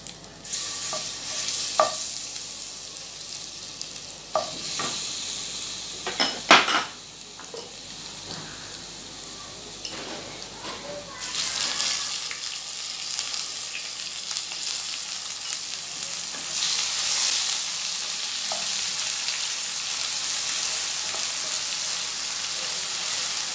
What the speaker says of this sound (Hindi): लहसुन अदरक का पेस्ट डालेंगे।